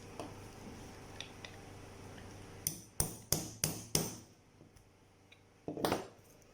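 Punching holes in sandal material while making a baby boy's sandal, heard as five sharp, loud hammer-like strikes in a quick irregular series, followed by a softer, rougher knock.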